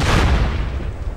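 Grenade blast in the online shooter game Socom, a single loud close boom with a heavy low rumble that fades out over about a second.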